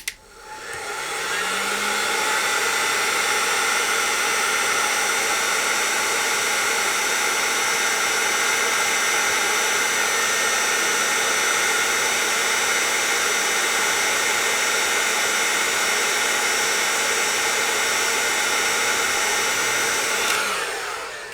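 A hairdryer blows steadily and loudly for about twenty seconds, warming the leaking capacitors of a 1955 Fender Tweed Deluxe amplifier, switching on at the start and cutting off at the end.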